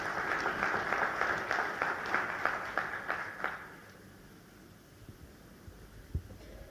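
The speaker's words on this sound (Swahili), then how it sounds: "Makofi kwa Mheshimiwa Ndumbaro." Audience applause at a hotel launch ceremony attended by a head of state in Tanzania, a steady burst of clapping that fades out after about four seconds, leaving quiet room tone with a few faint knocks.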